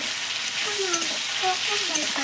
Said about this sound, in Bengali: আদাটা এবার টমেটোর সঙ্গে খুব ভালো করে ভেজে নেবো